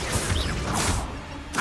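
Blasting-spell effect from the video game Hogwarts Legacy: a whooshing cast followed by a crashing impact burst, then a second sharp swish near the end, loud and close.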